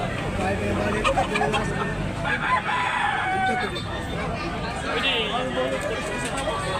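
Roosters crow at a Cebu chicken market in Tabunok, Talisay, several overlapping calls over a background of crowd chatter and nearby talk.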